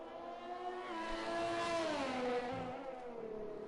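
A high, buzzing Red Bull Formula 1 car engine in a racing video game, at Singapore, revs and shifts pitch, rising then dropping as it accelerates, loud and steady with no talking.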